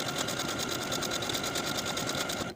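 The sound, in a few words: sewing machine stitching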